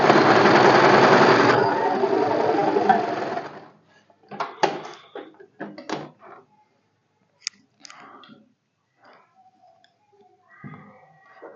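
A sewing machine double-stitches a padded blouse in a steady, fast mechanical whirr for about three seconds, then stops, followed by scattered soft clicks, rustles and handling noises.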